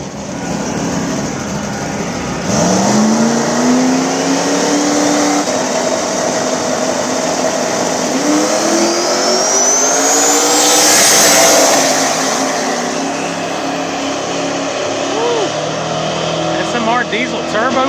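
Drag race cars, including a diesel turbo Camaro, roar off the line at a dig race, engines rising in pitch through hard acceleration with a turbo whistle, loud and sustained, while an announcer talks over the noise.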